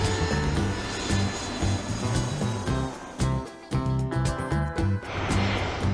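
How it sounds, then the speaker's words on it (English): A military warplane roars steadily overhead, loud and continuous with shifting engine tones and a few brief dips in level. "Warplane."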